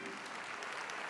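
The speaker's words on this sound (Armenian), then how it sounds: "Եկեք մի հատ բարձր ջիգարով ծափարենք մեր նորապսակ զույգին։" Guests at an Armenian wedding clap for the newlywed couple, a brief burst of dense, even applause from a crowd, fairly soft and continuous for about a second.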